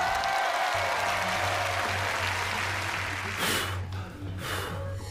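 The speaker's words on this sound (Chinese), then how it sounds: "来，现场的观众，请给两位主持人一点掌声鼓励" A studio audience on a Chinese television variety show applauds two hosts in a dense, continuous wash of clapping that stays loud and steady, with a low hum beneath it.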